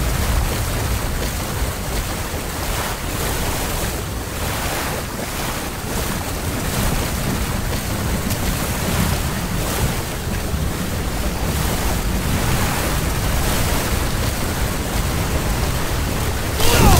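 A steady roar of rushing ocean surf in the video game Kelly Slater's Pro Surfer, broad and loud, with wind-like hiss washing continuously and no clear breaks.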